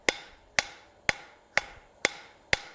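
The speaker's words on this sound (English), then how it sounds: "My hammer is not hitting on the anvil" Hammer blows land on hot steel while a fishtail end is forged on a garden hose hook, six sharp ringing metallic strikes in an even, unhurried rhythm, close and clear with nothing else heard.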